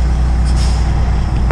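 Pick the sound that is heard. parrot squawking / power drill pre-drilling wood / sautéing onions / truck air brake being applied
truck air brake being applied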